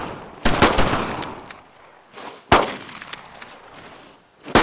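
Suppressive machine-gun fire in the World War II shooter Brothers in Arms: Road to Hill 30, with three sharp, loud bursts of gunfire about two seconds apart, each decaying into a rattling, echoing tail.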